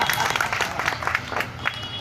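Audience clapping at a Hindi poetry gathering (kavi sammelan) in Sarnath, a busy patter of hands with a low murmur of crowd noise and voices mixed in, brief and fairly loud.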